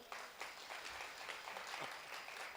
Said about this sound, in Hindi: कोई एक बार ताली बजा दो तो।